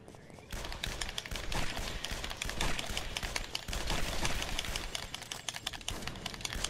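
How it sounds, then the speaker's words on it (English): Rapid pistol gunfire in the video game Guns Gore and Cannoli, a dense stream of sharp repeated shots that continues almost without a break, loud and close, with game sounds mixed in. "I have unlimited shots of the pistol."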